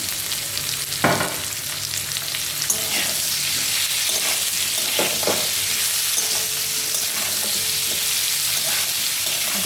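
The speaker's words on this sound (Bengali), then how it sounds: "এই ভাজাটার মধ্যে না এই দুটো তেজপাতা দিয়ে দিচ্ছি" Pumpkin for a sweet pumpkin curry sizzles in a pan of hot oil with bay leaves, a dense, close frying crackle with a few sharp stirring scrapes and pops, no talking.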